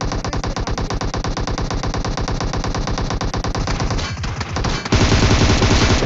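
Rapid automatic gunfire in a battle royale video game rattles in long, loud, continuous bursts. A short pause is followed by a renewed, harsher stream of shots.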